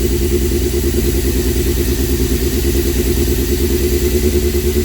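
A Honda CBR1100 Blackbird motorcycle engine idles cold with a steady, even low throb, loud and close, holding a constant pace without revving throughout.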